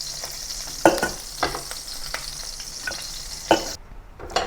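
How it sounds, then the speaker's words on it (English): A fresh batch of shrimp crackles and sizzles in oil in a pan for Chinese garlic shrimp, with a steady hiss broken by several loud spitting pops, and the sizzle drops away abruptly near the end. "And then continue frying the next batch of the shrimp."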